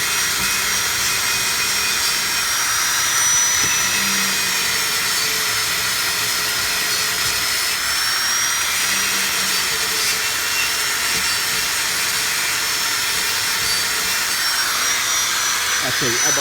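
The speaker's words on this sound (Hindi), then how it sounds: "ये ग्राइंडर ऑन हो गया।" An angle grinder removing rust from a Corolla car body gives a steady high whine that holds loud and unbroken throughout, while someone talks over it.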